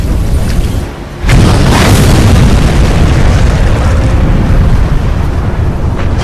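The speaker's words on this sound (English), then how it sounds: "Before slipping beneath the surface, her powder magazine detonates." The powder magazine of the battleship Yamato detonates in a massive, loud boom that erupts suddenly and rolls on as a dense, sustained rumble.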